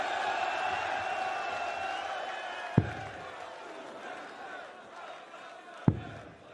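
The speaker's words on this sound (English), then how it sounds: "the crowd have certainly found their voice now" A darts crowd at the 2023 Belgian Darts Open sings and chants in a sustained, echoing roar, with two sharp thuds standing out above the noise.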